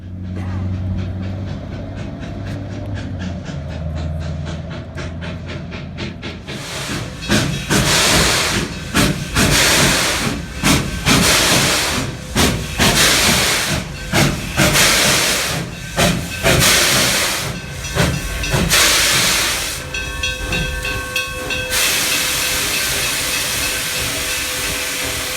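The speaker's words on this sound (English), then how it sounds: "At 12:30, we see the arrival of one of the regular passenger trains into Silverton." A K-28 steam locomotive hauling a passenger train arrives at Silverton, loud bursts of hissing steam and clanking, chuffing rail noise building from a quieter rumble, with voices talking now and then.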